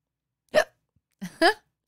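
Two sharp hiccups from a woman, one single and then a quick double catch, close and clear against silence.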